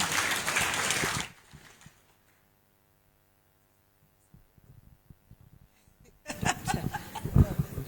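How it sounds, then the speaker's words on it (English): Audience applause and laughter for Silpa, a resolution reader at a heated political meeting, loud and dense for about a second, then fading to near silence before another burst of clapping and chatter returns. "Round of applause for Silpa."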